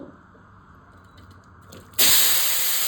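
Onions, partly mixed, drop into hot oil left over from frying tilapia fish and burst into a loud, sudden sizzle that goes on as a steady hiss after a quiet start, with no talk over it.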